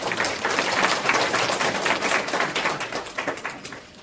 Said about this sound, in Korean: 발표해 주신 김주덕 교수님께 다시 한번 박수 부탁드리겠습니다.